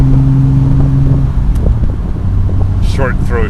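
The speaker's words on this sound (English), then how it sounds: "Listen to that 6-cylinder sing, huh?" A Triumph TR6 six-cylinder engine runs steadily up close with a low, even drone and a fluttering hum, while people talk over it on a mountain road drive.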